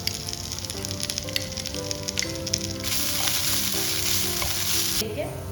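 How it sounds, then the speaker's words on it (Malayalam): Onions sautéing in a pan with ginger, garlic and green chilli paste for a duck roast: a close, steady sizzle under repeated stirring strokes, with a sharper, louder burst of frying hiss partway through. "നന്നായിട്ടൊന്ന് വഴറ്റിയെടുക്കാം. സവോള നന്നായിട്ട് വഴണ്ട് വന്നിട്ടുണ്ട്."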